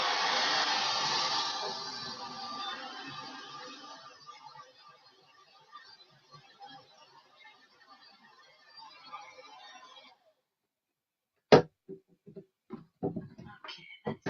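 Handheld dryer blowing on chalk paste over a craft project, a loud whooshing hum that fades over ten seconds and cuts off, followed by a few sharp clicks and taps.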